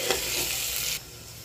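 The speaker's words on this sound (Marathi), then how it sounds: "तर तुम्ही पाहू शकता आपला कांदा किती मस्त असा खरपूस होत चाललेला आहे।" Onion and garlic frying in a pan for a spicy goat trotter curry, a close, steady hissing sizzle that cuts off sharply after about a second, leaving faint background.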